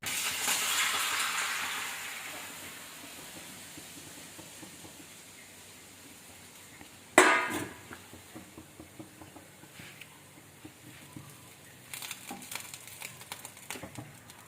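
Onion thrown into a hot pan in a home kitchen while dosa is being made: a soft hiss, then a sudden loud sizzle burst as it lands, settling into steady crackling with occasional clatter and stirring.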